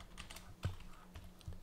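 Quick, faint clicks of typing on a computer keyboard, a short burst of several keystrokes close by with nothing else around them.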